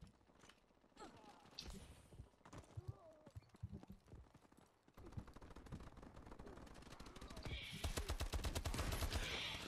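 Rapid bursts of automatic gunfire from Kimbo guns in the Advanced Warfare shooter, growing denser and louder toward the end, with someone talking over the early shots.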